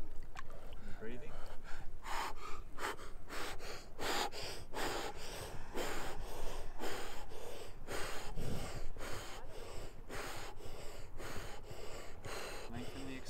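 Slow, calm breathing up close, with long drawn-out exhales and sharper inhales repeating steadily in a cold setting, each breath a broad airy rush.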